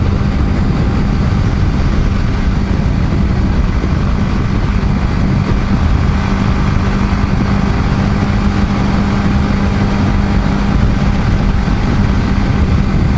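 A BMW G310GS motorcycle cruises in sixth gear at around 100 km/h, its single-cylinder engine droning steadily under heavy, constant wind roar with no change in pitch or speech.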